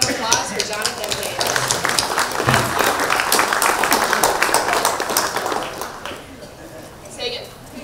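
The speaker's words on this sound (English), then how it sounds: "a round of applause for Jonathan Wade." Audience at a lecture event breaks into applause: a dense wash of many hands clapping, loud and sustained for several seconds before fading out, with some talk over it at the end.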